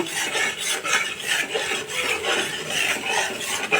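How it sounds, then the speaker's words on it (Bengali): A spoon scrapes and stirs spice paste being sautéed in a pan for prawn pilaf, making continuous rasping, rubbing strokes in an uneven rhythm, close and fairly loud, with no voices. "মশলাটা আমি এখন ভালোভাবে কষাই নিব"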